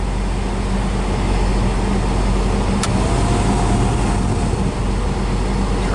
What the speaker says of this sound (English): Let's see what happens when we turn the air conditioner on.